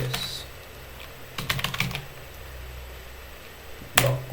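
Typing on a computer keyboard while a DNS configuration file is edited, with a quick cluster of keystrokes in the middle and a few isolated clicks at the start and end.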